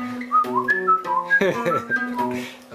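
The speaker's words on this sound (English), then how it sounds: "maybe you whistle the part" Someone whistles a wandering melody, a string of clear sliding notes over a low sustained background tone, close and steady for a few seconds.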